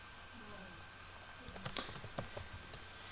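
Keys clatter on a computer keyboard as a profile description is typed, a quiet irregular patter of taps that grows busier midway, heard faintly against low room noise.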